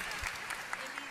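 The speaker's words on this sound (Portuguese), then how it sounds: "Vamos aplaudir o Senhor pela vida do Anthony." A church congregation claps together for a child during a Sunday morning dedication service, the applause steady and moderately loud with a pastor's voice speaking over it.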